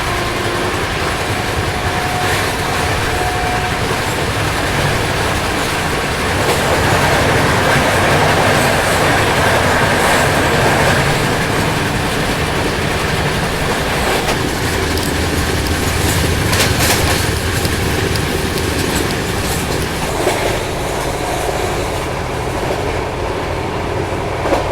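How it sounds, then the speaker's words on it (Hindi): Inside an AC chair car of the Gatimaan Express running at about 130 km/h near Gwalior, a steady loud roar of wheels on rail carries rhythmic clickety-clack and occasional faint squeals, continuous throughout. "130 किलोमीटर घंटे की स्पीड में चल रही है यार ये गतिमान एक्सप्रेस"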